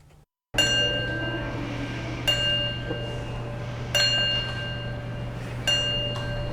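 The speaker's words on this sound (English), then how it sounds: "The sound of silence and a single ringing bell fills the State House" A single bell rings four times at steady intervals at a vigil in the State House, each strike clear and lingering, over a low steady hum in a quiet room.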